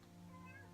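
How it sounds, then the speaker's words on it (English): A house cat meows once in a drawn-out, tonal cry, close and fairly clear, with no talking over it. "Oh, and sorry about my cat again."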